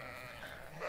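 Sheep bleating in a Jack the Ripper hidden-object video game, a short, steady, moderately loud bleat that sounds like a human voice imitating sheep, with no talk over it.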